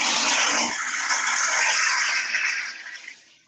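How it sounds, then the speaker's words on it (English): A household toilet flushes in a nearby room with a loud, steady rush of water that slowly fades as the bowl drains, with no voices. "I can walk into the other room and flush a toilet if you want"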